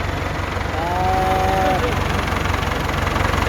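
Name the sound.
Ford tractor engine running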